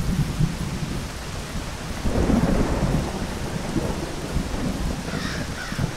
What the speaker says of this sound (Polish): gdy biegamy właśnie w deszczu, nas nie słychać